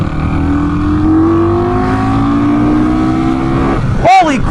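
An Indian Scout Bobber motorcycle engine revs loud and close, its pitch climbing steadily as it winds out second gear toward the limiter before the throttle snaps off near the end.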